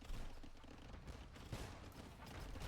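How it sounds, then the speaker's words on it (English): Bombard cannons fire during a video game battle, a dense, rumbling wash of blasts and crackling impacts that swells and fades at moderate, somewhat distant loudness. "There's the first bombard cannon."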